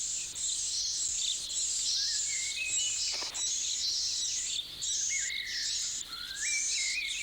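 Finches call among garden shrubs and a dog rose where a bullfinch rears its young, with continuous high chirps and trills mixed with insect-like buzzing, steady and fairly faint at a moderate distance.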